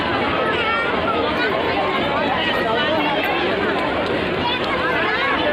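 A dense, steady crowd at a gurudwara in hot sun, with people bathing and langar being served nearby; continuous loud hubbub of many voices and movement without pause.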